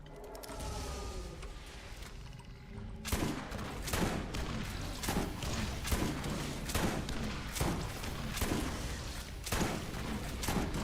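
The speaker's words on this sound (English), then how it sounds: "How my go-to weapon has just become things that shoots fucking rockets" A rocket launcher in Borderlands fires a rapid string of loud, booming blasts roughly every second, following a few seconds of quieter game ambience. No voices.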